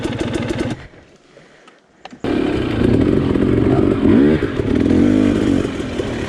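A Yamaha YZ250X or KTM 250XC TPI two-stroke dirt bike lugs up and over a log. The engine drops to a brief low, quiet lull, then pulls back in loud and close with a steady, throbbing, revving drone.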